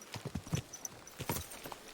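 Horse hooves clip-clopping at a slow walk inside a fort in Kingdom Come Deliverance 2, an irregular series of close, moderately loud thuds heard alone without talk.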